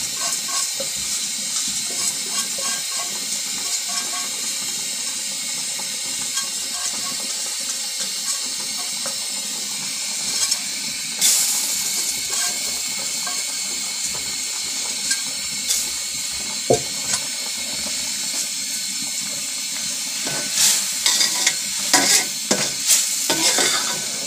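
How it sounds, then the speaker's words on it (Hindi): Soaked basmati rice goes into boiling water for yakhni pulao, stirred with a utensil in a pot, giving a continuous bubbling hiss with scraping stirs and occasional sharper clinks against the pot. "उबाल आ गया, अब चावल डाल देंगे हम।"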